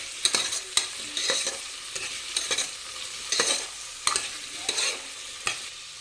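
Cucumber pieces and onions in hot oil in a pan being stirred together, with rhythmic spatula scrapes and knocks every half second or so over a low steady sizzle, close up, no talking.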